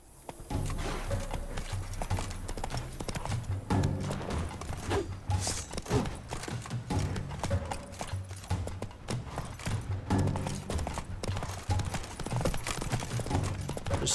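A horse gallops in The Witcher 3, with steady clip-clop hoofbeats running throughout under a dense game soundtrack and ambient noise.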